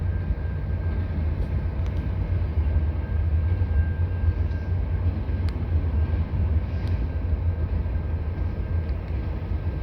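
A Canadian National freight train with flat cars rumbles steadily past at Naperville, Illinois, a loud, continuous low roar of wheels and cars close by, with no talk over it.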